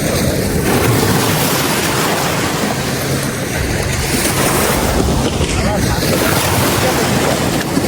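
A motorboat speeds along the Panguchi river near Morrelganj, Bagerhat, through waves: a steady, loud broadband rush of engine, water and wind buffeting the microphone, continuous throughout with no distinct breaks.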